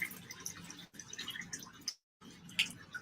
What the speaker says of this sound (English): Some hot water going here.